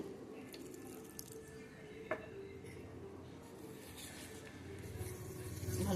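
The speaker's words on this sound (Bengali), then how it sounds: "জল দিয়ে দেবো" Water runs into a bowl or pan while egg roti batter is being made in a home kitchen, a steady faint splashing stream with a light clink partway through and no talk.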